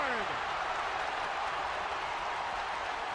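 A basketball crowd in the Fayetteville, Arkansas arena roars continuously and loudly, a dense wall of cheering with a voice briefly audible under it.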